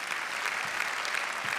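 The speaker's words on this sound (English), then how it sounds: "look at that, Shabana, the crowd erupting there," Crowd at the 2011 World Squash Championships match between Shabana and Hisham Ashour bursts into sustained applause after a long rally in the fifth game, a dense, steady clapping roar throughout.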